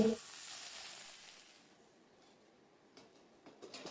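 Okra and raw mango bhujia frying in a pan, a soft steady sizzle that fades slightly, then scattered scraping stirs and clinks toward the end, faint and close, with a brief voice at the start.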